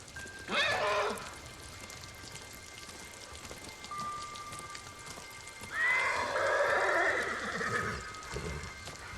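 Horse whinnies in Ghost of Tsushima, a sharp neigh near the start and a longer, louder one after the midpoint, over a steady bed of falling rain with light hoof clops.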